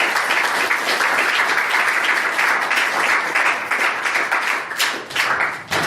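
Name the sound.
audience applause at end of forum talk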